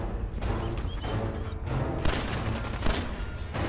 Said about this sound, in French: On va tirer avec ça.